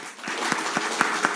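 Church congregation applauding during a Sunday worship service, steady clapping with a few sharper claps standing out, moderately loud and without talk.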